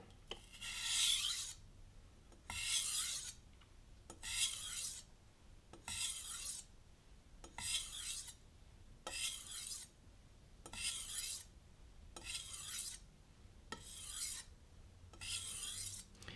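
A kitchen knife is drawn across a sharpening stone in about ten even, rasping strokes at a steady rhythm, close and clear with short pauses between each pass.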